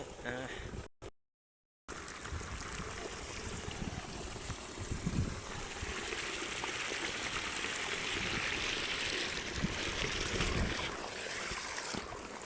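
Steady rushing water pours out continuously, mixed with wind buffeting and faint voices in the background.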